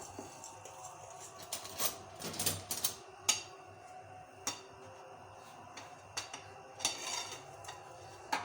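Cake batter being gently mixed with a dry flour mixture for a brown sugar dry fruit cake: soft scraping and light clinks of a utensil against the bowl come in scattered, irregular taps over a quiet background, with no talking.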